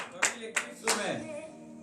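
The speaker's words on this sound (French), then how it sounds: "Donnez la acclamation à Seigneur." Sharp claps ring out in acclamation during a morning prayer service in Benin, three distinct beats spaced about a third of a second apart, followed by a trailing voice.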